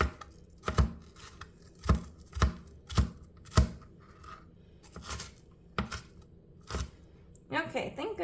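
A knife chops an onion on a board in about a dozen sharp, uneven thuds spread over several seconds, close and clear, with a voice talking briefly near the end.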